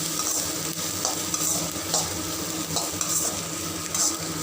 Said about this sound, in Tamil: ஒரு 2 நிமிஷம் பூண்டு நல்லா எண்ணெயிலே வதங்கட்டும்